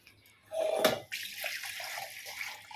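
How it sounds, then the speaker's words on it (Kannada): Water splashes briefly into a mixer jar in a home kitchen, then runs as a softer continuous trickle, close and fairly quiet. "ಇದಕ್ಕೆ ಎಷ್ಟು ನೀರು ಬೇಕೋ ಅಷ್ಟನ್ನು ನೋಡಿ ಜಾರ್ಗೆ ಹಾಕ್ಕೊಂಡು"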